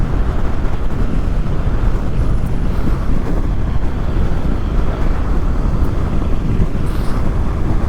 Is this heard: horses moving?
no